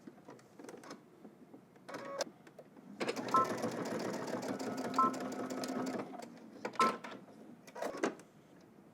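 A sewing machine stitches a sweatpant side seam in a steady whirring run of about three seconds, with short bursts and faint clicks before and after it.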